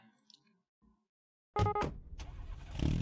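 A video game car starts after a quiet stretch with faint noises: an abrupt cranking catch, a short pause, then the engine catches and revs up into a loud, rough idle.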